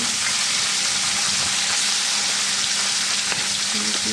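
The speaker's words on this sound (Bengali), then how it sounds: "কড়াই গরম তেলে আমি তেল ছেড়ে এখন মাছটা ছেড়ে দিলাম" Salted fish pieces fry in hot oil in a kadai wok, producing a loud, continuous crackling sizzle that fills the whole stretch without letting up.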